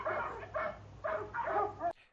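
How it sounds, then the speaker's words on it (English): Several dogs bark in short repeated bursts, about four or five barks in quick succession, picked up through a USB headset microphone as background noise during a headset test. The barking comes through moderately loud and slightly muffled, and no one speaks. "This is what it sounds like with barking dogs in the background."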